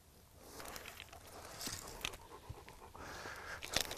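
A protective dog pants rapidly outdoors, breathing deeply from the diaphragm in a steady, quiet rhythm of soft huffing breaths close by, with faint rustling around it and no talk.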